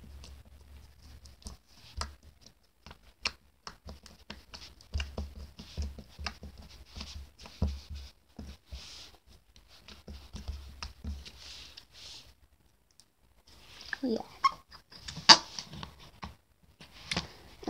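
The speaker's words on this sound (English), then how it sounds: "play around with it like a lot. Like I was doing before this so you could get some satisfying bubble sounds" Handmade slime being poked, squeezed and stretched by hand, giving soft, quiet squelches, clicks and small popping bubble sounds in irregular bursts, close up with no talking.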